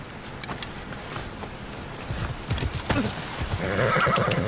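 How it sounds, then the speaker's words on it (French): A horse in Assassin's Creed Odyssey answers a call with a whinny while hooves clip-clop closer, the steps growing louder and nearer toward the end over a light wind bed. "on va appeler le cheval"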